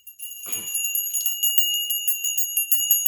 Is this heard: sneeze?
no